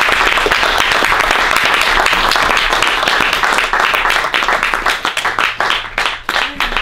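An audience applauds warmly to welcome filmmaker Larry Gottheim at an LA Filmforum screening, dense steady clapping that thins into scattered individual claps toward the end.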